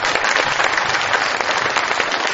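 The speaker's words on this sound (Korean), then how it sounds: "박수 치워드리고 싶어요." Sustained audience applause fills the room during a leadership lecture, a dense, steady wash of many hands clapping at once, loud and continuous with no voices standing out.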